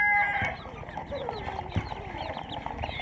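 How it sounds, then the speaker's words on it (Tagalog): A chicken clucks repeatedly at a home in the Philippines, clear and fairly close, with short sharp calls scattered over a steady outdoor background. "Nakikisali rin yung manok ah."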